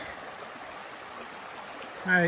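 The East Piscataquis River flows in a faint, steady wash of running water, quiet and continuous, with a brief voice breaking in at the very end.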